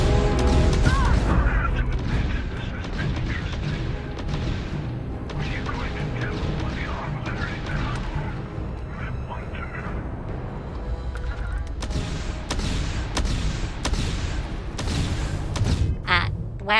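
Gunfire and artillery fire in Starfield: booming thuds and sharp cracks rumble through a dense, loud mix, with a burst of rapid shots near the end and voices underneath.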